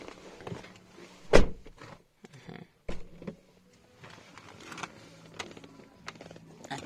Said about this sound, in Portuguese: Abre a porta.